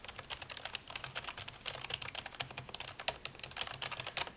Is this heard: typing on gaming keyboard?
yes